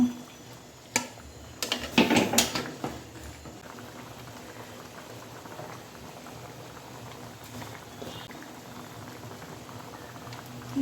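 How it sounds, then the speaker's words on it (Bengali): Chicken curry simmers in a pot after hot water is poured in, bubbling steadily at a low, close burble, with a short burst of clatter and splashing near the start. "এখন আমি গরম পানি দিয়ে দেব ঝোলের জন্য।"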